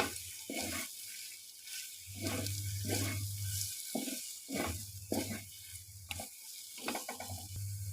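Fried potatoes being mixed into a cooked-down spice masala in a pan, a low sizzle with intermittent scraping and stirring strokes and occasional clatter, fairly quiet and close with no talk.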